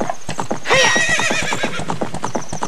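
Horse in Zelda Ocarina of Time, a loud close neigh rising over steady rhythmic galloping hoofbeats that continue throughout.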